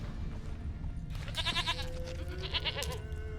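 A goat bleats in a Witcher 3 game scene, a wavering mid-distance call rising over a low ambient outdoor hum, followed by a softer second bleat.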